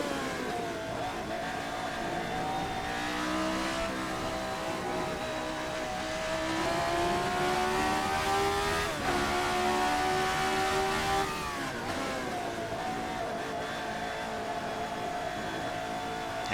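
An RSS Formula 79 race car engine in a racing video game screams and revs through upshifts and throttle lifts, the pitch climbing and dropping repeatedly in a loud, continuous run with no talk.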